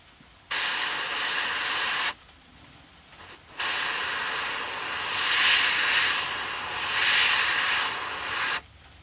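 Airbrush hissing in steady bursts as paint is sprayed through a stencil to outline a shad fishing lure, about three sustained sprays separated by short pauses, close and fairly loud.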